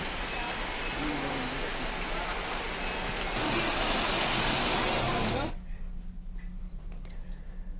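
Heavy, steady rain hisses as a dense wash of noise during a week of continuous monsoon rain in Uttarakhand, then cuts to a quieter, duller patter partway through.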